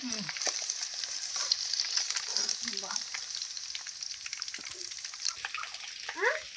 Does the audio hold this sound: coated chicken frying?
yes